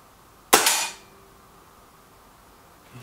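A single sharp, close crack from a Kral Puncher Maxi air rifle fired at a paper target, with a quick decaying report, then quiet ambience and a faint click near the end.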